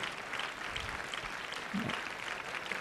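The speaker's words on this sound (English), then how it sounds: "A round of applause." An audience applauds steadily throughout at a memorial lecture, a sustained even wash of clapping at moderate level with no talk in the clip.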